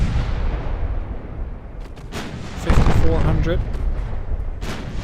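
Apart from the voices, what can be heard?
20-inch naval guns firing in Ultimate Admiral: Dreadnoughts video game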